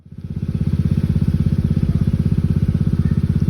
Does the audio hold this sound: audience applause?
no